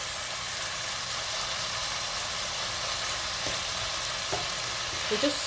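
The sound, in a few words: ginger and garlic frying in a pan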